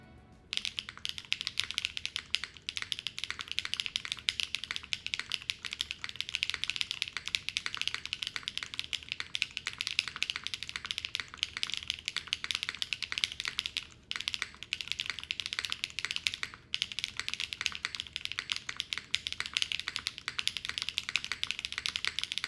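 Continuous typing on a heavy Neo80CU mechanical keyboard with a gasket-mounted build, a dense, steady stream of close, crisp key clacks with no voices.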